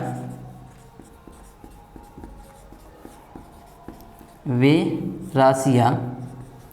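Chalk or marker taps and scratches on a board in a classroom physics lesson, a run of short, regular strokes at moderate level, followed by a teacher's speech that takes over the last seconds.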